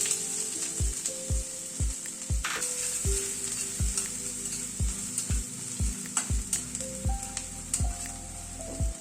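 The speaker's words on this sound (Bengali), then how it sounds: "নারকেল কোড়াটা একটু নাড়াচাড়া করে নিলাম" Grated coconut frying in a pan with crackled tempering spices is stirred, producing a constant sizzle and a quick, regular series of spatula knocks against the pan, close and clear.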